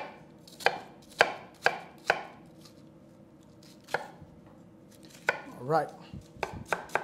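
Sharp knife chopping food on a cutting board, with four quick, crisp strokes close up, then scattered single cuts and a short scraping rustle; a voice says a single word.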